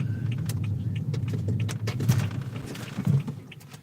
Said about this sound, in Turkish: Çok hızlı geldi bu araba.